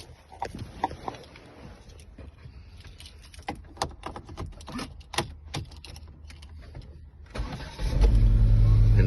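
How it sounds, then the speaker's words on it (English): A 2008 Volvo S40 engine cranks and fires near the end after key and keyring clicks and rustles, then settles into a loud, steady low idle close by. "Sure the car starts."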